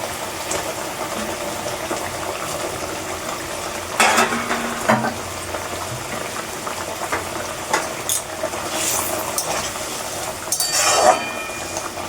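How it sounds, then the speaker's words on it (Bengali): Raw fish pieces and fish heads slide into a simmering Bengali fish curry gravy, a steady close bubbling and stirring hiss with a louder splash-like burst around the middle and another near the end, with no talking. "দেখো ঝোলটা ফুটেছে, এই সময় আমি মাছগুলো দিয়ে দিই, মাথাও দিয়ে দিই।"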